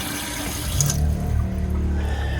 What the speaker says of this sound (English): we've been having trouble with this tap almost since we put it in, and you can see that it's just pouring out of there